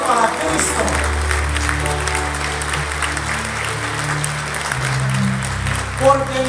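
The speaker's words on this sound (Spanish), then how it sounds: "Un aplauso para Cristo." Church congregation at a Shekinah ministry service applauding for Christ, steady dense clapping that fills the space, with a preacher's voice rising over it at moments.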